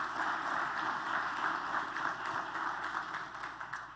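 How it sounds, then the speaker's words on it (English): Steady crowd applause at a football awards show honoring player Xavier Robinson, a dense, even wash of clapping that holds at a moderate level for the whole stretch. "let's give him a round of applause anyway"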